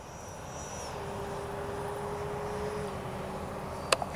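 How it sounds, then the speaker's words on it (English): An H-King Flycat V2 twin-motor RC jet plane flies overhead with a steady, moderately distant whirring drone, ending with a couple of sharp clicks. "Fun plane. Absolutely blast to fly."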